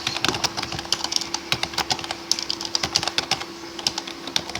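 Rapid, uneven clicking of keys on a computer keyboard, close up and steady, with a faint hum underneath and no voices.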